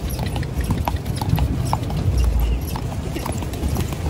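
A horse's hooves clip-clop steadily across a beach at close range, a quick repeating rhythm of soft thuds over constant sea-breeze and surf noise.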